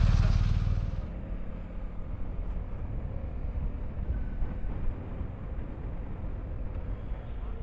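Motorcycles on a touring ride through the Pyrenees and Picos mountains rumble steadily. The engine drone is loud at first, then settles into a constant lower hum, with no voices.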